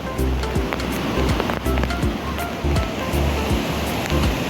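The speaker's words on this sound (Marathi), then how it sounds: "इकडे डोंगरातून वरून पाणी येतं सगळं खाली." Water from a hidden waterfall in the Konkan hills falling down off the mountain, a dense, continuous rushing roar, loud and close. A few rhythmic low thumps run underneath it.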